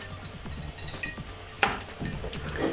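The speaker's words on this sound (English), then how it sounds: "So the clitter clatter is my ice cubes in my water" Ice cubes in a glass of water, giving scattered bright clinks and clatters, a few sharper knocks standing out against low background noise.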